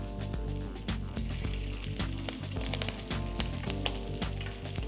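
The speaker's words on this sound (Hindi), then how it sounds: "तो तेल गर्म है अभी, अभी इसमें लेंगे हम हल्का सा जिंजर के जूलियन और" Ginger julienne and chopped green chili sizzle in hot oil in a pan for pindi chole, a steady close crackle with scattered sharper pops and stirring clatter throughout, with no voices.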